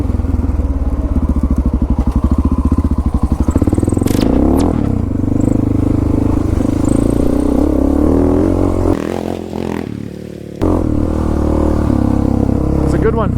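An old Honda XR650L single-cylinder motorcycle engine runs nearby with a loud, chugging idle, then a steady rumble with a brief dip, while someone talks over it.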